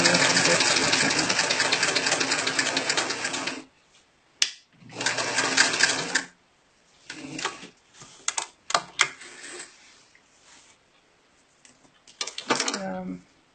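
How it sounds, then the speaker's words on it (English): A sewing machine stitches an invisible zipper, running in one long burst, then several short bursts of back and forward stitching separated by pauses, heard up close. "I'm going to sew a few stitches, back stitch, and then I will forward stitch until I get to the end"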